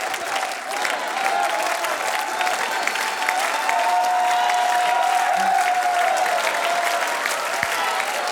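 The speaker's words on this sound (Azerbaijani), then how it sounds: "Gür alqışlarla sizi yola salırıq." An audience at a televised singing competition breaks into steady, sustained applause, a dense wash of clapping from a large crowd lasting several seconds with no voices over it.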